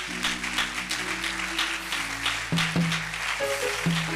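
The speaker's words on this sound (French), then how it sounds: "Est-ce qu'on peut acclamer pour sa présence?" A church congregation applauds a visiting pastor during a service, steady clapping over a sustained organ or keyboard tone, with no talking.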